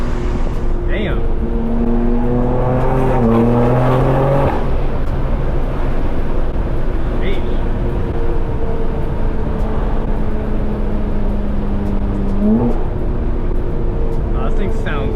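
A BMW G82 M4 with the S58 engine and a Valvetronic exhaust revs loudly, with harmonic engine tones climbing and falling early on and a second brief rev near the end, over steady loud background noise.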